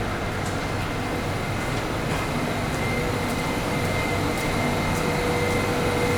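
A Singapore MRT metro train rumbles at a Clarke Quay platform, a steady loud roar with a faint tonal whine and no pauses.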